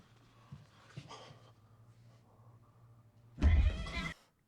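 A cat in the walls in a TV show lets out a low, muffled growl, then a short sharp snort and a loud, harsh yowl near the end.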